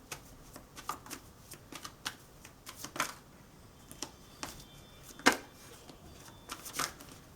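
Tarot cards are shuffled in a steady stream of soft riffling slaps and flicks, close and quiet, with a few louder snaps among the faint papery rustle.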